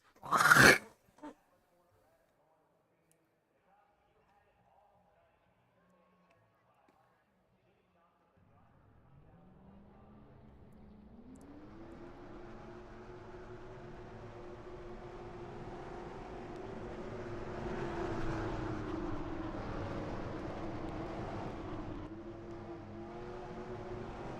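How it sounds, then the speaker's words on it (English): Race car engines in a racing video game start up after a stretch of near silence, several engines layering into a loud, steady droning roar whose pitch climbs and holds, with a short sharp sound at the very start. "Drivers, start your engines!"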